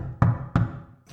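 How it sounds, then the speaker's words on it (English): Two firm knocks on a door, evenly spaced and close, with a faint trailing sound at the end. "I got to freebie and knocked on the door."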